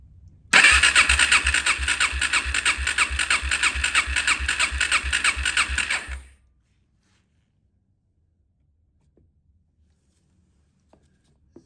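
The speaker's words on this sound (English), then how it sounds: "Throttle is open, key is on. Let's go ahead and crank." A Suzuki LTZ 400 ATV engine, throttle open, cranks with a rapid regular starter rhythm for about six seconds, loud and close, then stops abruptly into near silence.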